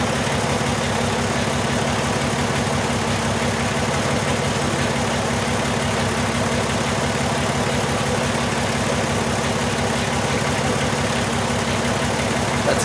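A 2002 Volkswagen Jetta VR6 engine with a faulty number-one fuel injector idles steadily, giving a constant low, rhythmic hum and vibration at close range with no talk.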